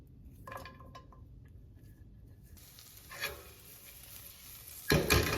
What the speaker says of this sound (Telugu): ఒక ప్యాన్లో టూ స్పూన్స్ బటర్ వేసుకొని గార్లిక్ వేసి